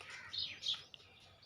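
Small birds chirp and tweet in a garden where grain has been set out for them, with a few faint, high, quick calls over quiet background hiss.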